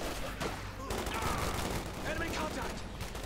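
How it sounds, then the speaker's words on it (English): Machine gun fire and rifle shots in a Company of Heroes 2 battle, with bursts of gunfire and explosions running dense and continuous throughout, mixed under a busy game soundscape. "infantry has been chosen here for Chukonoko, opening up from mortar half-tracks, sandbags, and soon Browning light machine guns"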